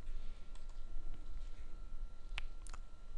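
A computer mouse gives a few soft clicks over quiet room hiss, with one sharper click standing out near the middle.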